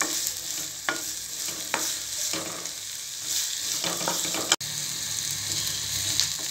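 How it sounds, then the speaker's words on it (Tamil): Onions sautéing in a pan alongside fried jackfruit seeds for a pepper fry, a steady broad sizzle with occasional stirring scrapes and a few sharp clicks, close and continuous with no talking. "இப்போ ஆனியன் ஆட் பண்ணிக்கிறேன். இது நல்லா வதக்கிக்கலாம்."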